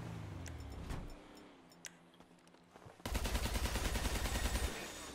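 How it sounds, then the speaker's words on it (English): Rapid bursts of automatic gunfire in Grand Theft Auto V, a fast rattling fusillade that starts abruptly partway through and runs loud and continuous to the end, after quieter game ambience with scattered faint sounds. "Were you just shooting at him?"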